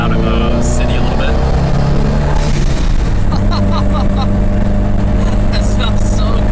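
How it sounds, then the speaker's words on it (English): A JDM-engined Porsche 912 with a turbo pulls hard, then its blow-off valve releases in short hissing bursts between gear changes, loud and close over heavy engine drone. "I can never get tired of that blow off, man."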